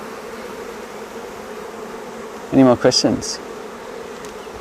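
Busy honey bee colony droning steadily around a hive being split, a constant close buzzing hum throughout, with a brief spoken question cutting in over it partway through.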